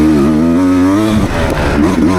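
Beta 390 dirt bike being ridden through a section of whoops, its engine droning loud and steady up close, the pitch rising and falling briefly as the bike works over the bumps.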